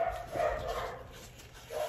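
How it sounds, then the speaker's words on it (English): Several dogs bark somewhere in a home, faint and distant, a few muffled woofs under a low steady background hum. "sorry, my dogs are barking"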